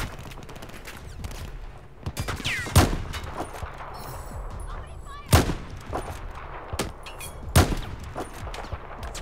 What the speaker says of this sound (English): Some kind of mounted gun.